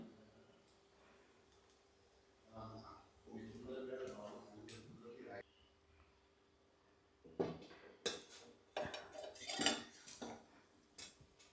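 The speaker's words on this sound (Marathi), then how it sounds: "आणि असं झाकण द्यायचं त्याच्यावरती आणि थोडा वेळ तसंच ठेवायचं आहे" A metal lid set onto a cooking pot in a Konkan home kitchen: a few quiet clinks and clatters of metal on metal, separated by brief pauses, with a soft voice in the background.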